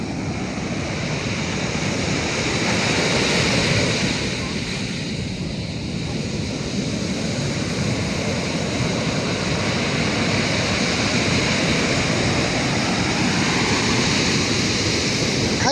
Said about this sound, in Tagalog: sungit ang panahon, ang lalaki ng alon, sobra guys